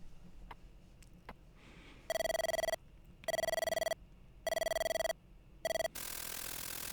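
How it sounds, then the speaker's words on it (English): A telephone rings in the horror video game Mirrors: four loud, evenly spaced electronic ring bursts, the last one cut short, followed by a burst of broad hiss. "The phone rang."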